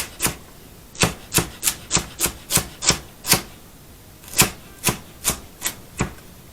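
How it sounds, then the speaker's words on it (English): A knife chops through celery on a cutting board for egg salad, about fourteen crisp, evenly spaced cuts heard up close with no talking. "So we're going to take some celery and chop it up and just add it right to the eggs"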